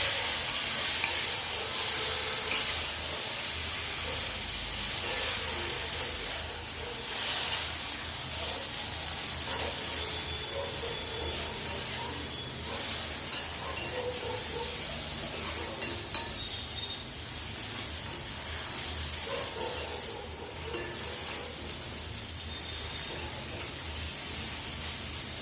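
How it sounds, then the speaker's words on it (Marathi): Stuffed okra (bharwa bhindi) frying in a pan over a low flame, a steady broad sizzle with occasional scraping stirs, continuous and close with no voices. "याला कमी आचेवर फ्राय करायची"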